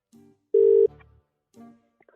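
An outgoing telephone call rings in a short electronic burst, a single loud tone between fainter line chirps and clicks, heard close and alone.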